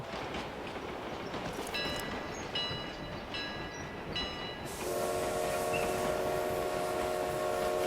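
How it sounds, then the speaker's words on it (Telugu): A train in the BGMI battle royale game rumbles past, starting with broken whistle-like tones and then settling into a steady, sustained tonal horn over a constant hiss and rumble, with no voices. "The train is now approaching."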